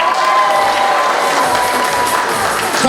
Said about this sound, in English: Give the first couple a round of applause.